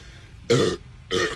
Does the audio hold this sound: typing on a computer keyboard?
no